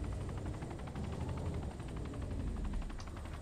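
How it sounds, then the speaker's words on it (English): A helicopter in the video game DayZ drones steadily and loudly, its rotor chop pulsing in a continuous rhythm throughout with no break. "I can't hear anyone over the goddamn helicopter."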